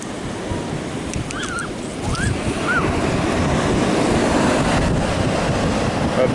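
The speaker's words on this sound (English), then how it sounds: "I believe the tide is coming in." Ocean surf washing onto a rocky beach at Navarro by the Sea as the tide comes in, a steady roar with heavy wind buffeting the microphone and a few faint bird calls early on.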